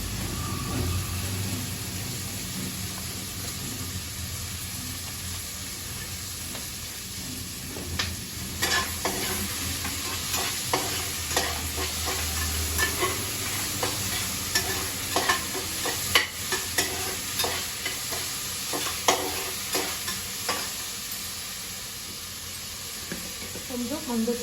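Green chilli and tomato sautéing in a pan, with a steady sizzle and repeated scraping and stirring strokes that get busier midway, up close with no talk.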